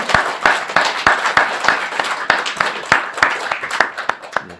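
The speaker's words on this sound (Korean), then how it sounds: "우리 하나님께 영광의 박수 돌려드리겠습니다." Congregation clapping at a Christmas Day service in a Korean church, a loose, fairly sparse patter of individual claps with sharp distinct hits, moderately loud and steady over a few seconds.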